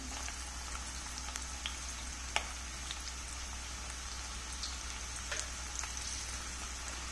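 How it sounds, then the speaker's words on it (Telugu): Onion pieces and green chilli slices frying in a pan over a medium flame, a soft, steady hiss with occasional small pops and crackles, fairly faint and with no talking. "వీటిని కొంచెం వేగనిద్దాం"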